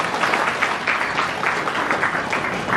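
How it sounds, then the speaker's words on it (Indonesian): A crowd claps steadily at a santri graduation ceremony held at an Islamic boarding school. The applause is dense and sustained at an even level the whole way through, with no talk heard over it. "Tepuk tangan."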